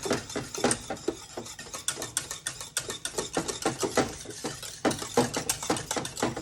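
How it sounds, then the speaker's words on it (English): Cold butter cubes being whisked into pastry cream in a bowl, a rapid, steady clatter of wire strokes scraping close up, continuing for several seconds with no voices. "And you just want to whisk that together."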